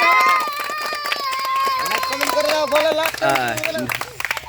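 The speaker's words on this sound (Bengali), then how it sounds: "একবার হাততালি হবে সবাই মিলে।" A group claps hands together during a lively children's game, sharp overlapping claps mixed with excited voices, shouting and chatter close by.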